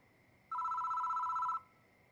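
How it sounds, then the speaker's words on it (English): A single electronic telephone ring from the horror video game Death Mark sounds for about a second against a quiet background, with no one talking. "The phone rings."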